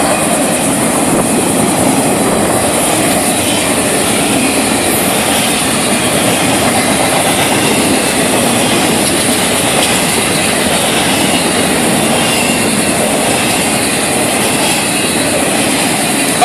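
An FEC freight train passing close by, a loud continuous rumble of rolling wagons with rhythmic clickety-clack of wheels over rail joints throughout.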